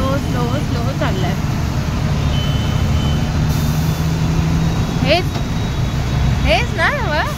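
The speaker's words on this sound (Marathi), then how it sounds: "टेम्पो किती स्लो स्लो स्लो स्लो चाललाय" A tempo truck crawls slowly through noisy city traffic, its engine rumbling steadily while beeps and wavering horn-like tones rise around it, with voices talking over the din.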